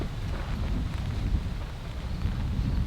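Strong, steady storm wind roars and buffets the microphone, a continuous low rumble with no voices.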